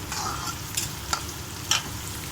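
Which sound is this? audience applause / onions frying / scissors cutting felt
onions frying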